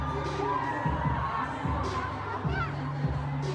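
A large, dense crowd of fans at a concert in Pune, a continuous roar of shouting and cheering with rhythmic low thumps of music beneath.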